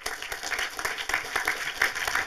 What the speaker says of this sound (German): begrüßen Sie nochmal mit großem Applaus Sebastian Koch